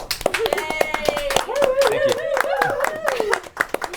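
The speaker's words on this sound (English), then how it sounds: "let's give a round of applause" Audience at a launch event in Times Square clapping, a sparse, uneven patter of handclaps running under a voice speaking loudly over them.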